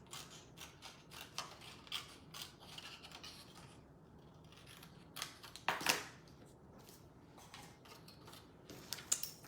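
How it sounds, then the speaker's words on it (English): Scissors snip across card stock to trim away a score line on a note card gift box, giving a few faint, scattered crisp cuts and scrapes that are quiet and close. "I am going to cut across, and I'm going to get rid of this score line."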